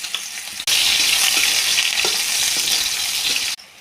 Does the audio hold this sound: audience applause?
no